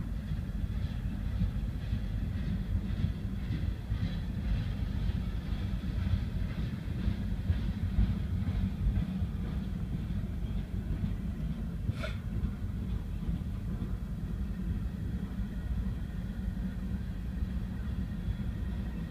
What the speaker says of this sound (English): That Amtrak should be coming fast.